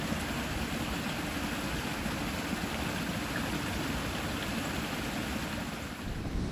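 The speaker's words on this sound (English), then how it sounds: "you can see the creek flows out here" A steady broadband wash of flowing creek water runs without a break, close and fairly faint. No voices are heard over it. The creek crosses dairy farm land.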